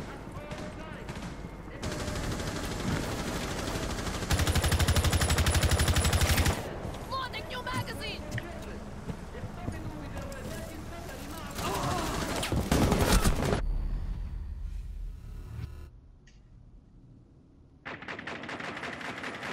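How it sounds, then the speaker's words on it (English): Bursts of rapid automatic gunfire crackle through a Rainbow Six Siege match, with loud sustained volleys that break off into short pauses and quieter stretches before firing resumes. "They're shooting."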